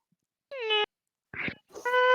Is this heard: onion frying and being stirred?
no